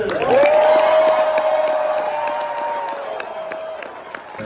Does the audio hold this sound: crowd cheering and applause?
yes